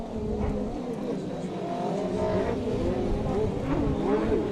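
A pro watercross racer's personal watercraft passes by on a race course, its engine whine rising and falling at moderate distance with a steady rumble underneath, while commentators talk over it.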